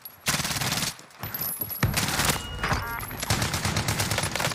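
Video game gunfire rattles in rapid automatic bursts, loud and close, with short gaps between volleys and near-continuous shooting through the second half.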